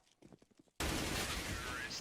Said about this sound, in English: That is a lot of gunfire right there.